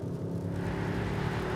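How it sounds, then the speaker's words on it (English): Mercedes S-Class V8 engine in Sport Plus mode on the Autobahn, a steady low droning rumble with a held tonal hum, no clear rev rise, heard from inside the cabin. "I like the rumble, I like the V8 revs."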